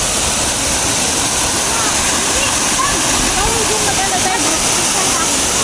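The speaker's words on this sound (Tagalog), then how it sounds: "Ang ganda ng Inambakan Falls." Inambakan Falls in Ginatilan, Cebu, roars as a steady, broad rush of falling water, loud and close, with people's voices faintly mixed under the constant noise.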